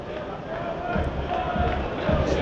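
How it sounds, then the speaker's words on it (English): A small group of Eastleigh away fans makes a steady rumble of crowd noise at a National League football match, distant and diffuse, heard through a radio broadcast. "And a couple of those Eastleigh fans continue to make some noise."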